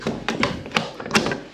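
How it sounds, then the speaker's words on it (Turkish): Room door of a villa being locked, a quick run of sharp close taps and clicks of the key and latch lasting under two seconds, with no voices. "Kapı şöyle kilitleniyor."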